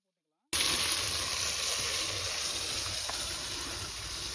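After a brief silence, pirandai (veldt grape) hits a hot pan and sautés with a loud, hissing sizzle that eases slightly as it continues, close and with no speech.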